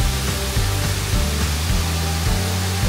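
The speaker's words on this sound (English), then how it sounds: "This is the top of the waterfall." Water spilling over the top of Kuang Si waterfall in Laos, a loud, continuous roaring rush heard close up.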